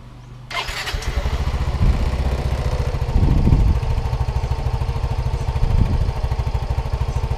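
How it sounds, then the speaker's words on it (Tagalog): A Yamaha Mio i 125 scooter engine starts and then idles steadily close by, with a few short throttle blips raising its pitch before it settles back to a running idle. No one speaks. "yung nagre-revolution mismo yung makina"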